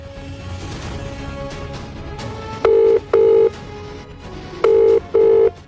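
A telephone number is dialed as four short, loud keypad tones in two pairs, each pair of beeps evenly spaced, over a low background hum.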